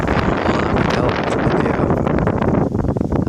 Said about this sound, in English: You probably hear the wind coming through this speaker and the microphone.